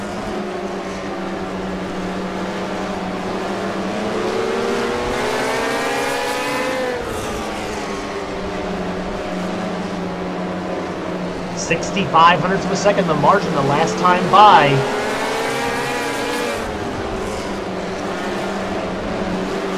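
Race car engines in a sim racing game, car number 8 among them, drone steadily and loud through the whole stretch, with pitch rising and sliding as cars run the straightaway, under a commentator's continuous talk.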